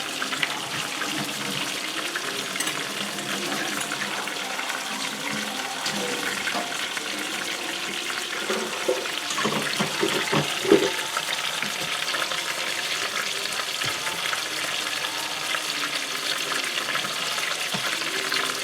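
Water runs steadily from a kitchen tap during washing, a continuous broadband rush with faint clatter and no talk.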